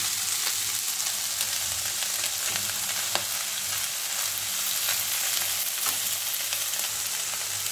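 Leftover rice frying and sizzling in a pan, a continuous close crackle with occasional scraping stir sounds, loud and steady with no talking.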